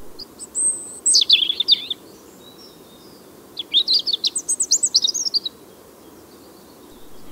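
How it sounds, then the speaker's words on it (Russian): European robin singing at night, two bright warbling phrases of thin high trills and twitters separated by a pause, moderately close over a faint low background hum. "можно отметить мелодию зарянки"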